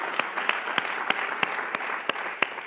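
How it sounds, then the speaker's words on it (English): Applause for Charles at the California FreshWorks launch event, with a steady wash of clapping and a few sharper individual claps standing out at regular intervals, moderately loud and continuous. "Round of applause for Charles."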